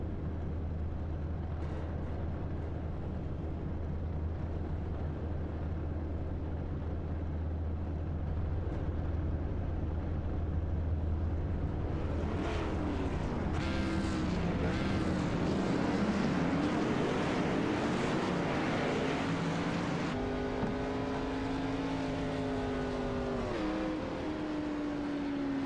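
Stock race cars roll behind the pace car at South Boston in an iRacing sim race, a steady low engine drone building into louder revving and tire roar midway, with no talk.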